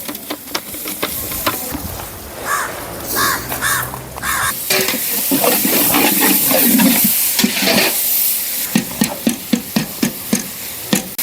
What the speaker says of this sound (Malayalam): ചെറുതായി അരിഞ്ഞു വെച്ച ചക്കാളി ഇതിലേക്ക് ആഡ് ചെയ്യാം